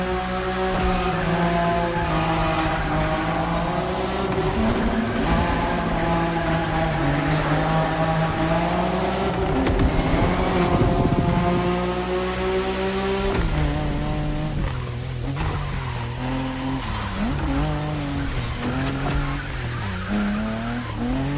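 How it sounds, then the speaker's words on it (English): A car in The Crew Motorfest racing game drifts with sustained tire squeal and screeching over a loud, steady engine drone, the pitch sliding up and down through long continuous slides. "it's all about drifting. Oversteer while maintaining control for a high exit speed"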